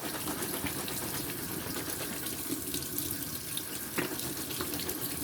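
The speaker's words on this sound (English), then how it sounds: "Give it a wash." KTC brand brown chickpeas are rinsed under a running kitchen tap, water pouring steadily into a sink with a constant splashing rush and an occasional clunk, close and loud, no voices.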